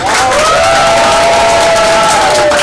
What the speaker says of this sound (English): let's have a huge round of applause for Split Split